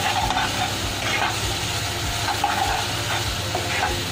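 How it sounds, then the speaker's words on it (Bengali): Slit green chillies sizzle steadily in hot frying oil in a pan, a continuous close crackling hiss with occasional soft stirring thumps. "এবার আমি এই চেরা কাঁচা লঙ্কাটা দিলাম।"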